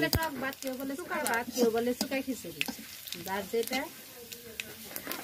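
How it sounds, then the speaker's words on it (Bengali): Black cumin seeds sizzle and are stirred in hot oil as tempering for khichuri, a soft crackling fry with scraping stir sounds beneath a voice talking. "কালো জিরা একটু ভাজাভাজি করে এখন দিয়ে দিব আমরা খিচুড়িতে"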